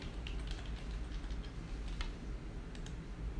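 Someone types a password on a computer keyboard: soft, irregular keystrokes scattered through a few seconds, fairly quiet against a constant low background hum.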